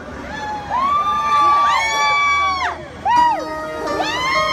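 An outdoor concert audience at an Odaiba summer festival stage cheers and shouts together in loud, rising whoops, with a brief dip and then another surge of voices.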